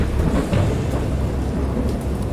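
A video game thunderstorm from Lovecraft's Dagon rolls on as a continuous deep rumble of thunder with rain, loud and close throughout.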